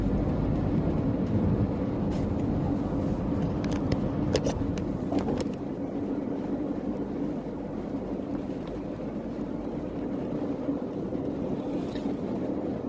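Dense morning traffic on the elevated MBZ toll road toward Cikampek, a steady broad rumble and road roar with wind buffeting, heard from inside a moving vehicle, with a few faint ticks partway through.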